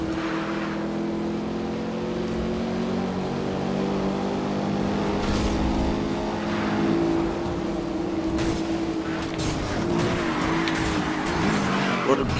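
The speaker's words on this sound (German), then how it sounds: "Schöner Drift auf jeden Fall." A car drifting in the Need for Speed Rivals racing game: a steady engine roar with long, rising and falling tire squeals as it slides through corners, and a few sharp bursts near the end, loud and continuous throughout.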